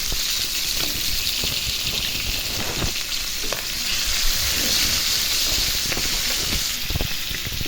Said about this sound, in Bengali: দেখুন, মাছটা দিয়ে দিলাম, ভাজতেছি।